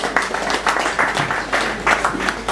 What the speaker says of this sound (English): Another round of applause for Professor Luke.